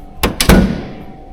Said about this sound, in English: Hear the doors closing?